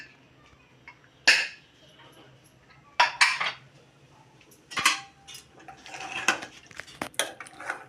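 A pressure cooker of cooked dal is opened after cooling, with a few sharp, close metallic clanks and clinks of the lid spaced apart, then a busier run of scraping and rattling near the end.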